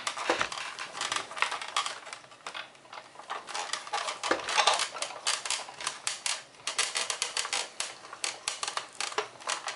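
Spellbinders metal dies pressed through foam in a die-cutting machine, a steady run of dense clicking, crunching mechanical texture lasting throughout, fairly close and moderately loud with no talking.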